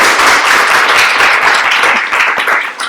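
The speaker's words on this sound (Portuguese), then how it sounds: "queria uma salva de palmas para o nosso convidado" Loud applause from an audience welcoming a guest at a conversation event, a close, dense wash of clapping that holds steady and then eases off toward the end.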